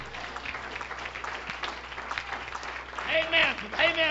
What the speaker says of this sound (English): We got them all clapping.